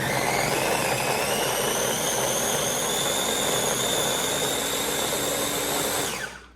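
An electric chopper pureeing tomatoes whirs loudly and steadily with a high motor whine, then winds down and stops at the end.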